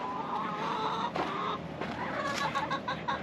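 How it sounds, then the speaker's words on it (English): Chickens in a backyard pen cluck steadily and fairly close, with several birds overlapping in a busy, continuous chatter and no talking. "I was experimenting with the chickens."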